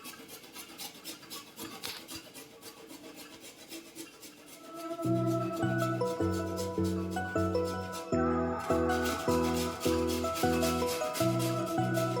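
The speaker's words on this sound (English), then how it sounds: "grate your ginger and all your garlic cloves and mix them together" Ginger and garlic cloves being grated on a hand grater make a soft, steady rasping in the first few seconds, then background music comes in loudly and largely masks it.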